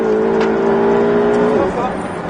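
A race car pulls hard on a track circuit, its engine droning loud and close with a rising then settling tone, while someone speaks briefly over the noise.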